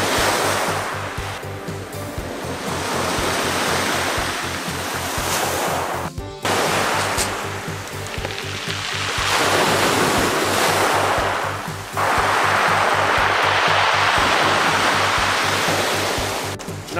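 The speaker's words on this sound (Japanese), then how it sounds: "波が引いてく時の石がカタカタカタカタカタカタカタっていうのがすごい" Waves on a Niigata pebble beach wash in and draw back in repeated surges, the retreating water dragging pebbles that rattle and clatter loudly and continuously close by.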